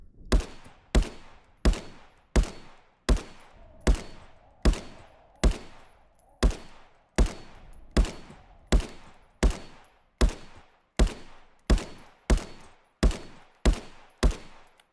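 A rifle fires in a VR video game, about twenty-two sharp close shots evenly spaced at roughly one every 0.7 seconds, each ending in a short decaying tail, with no talking.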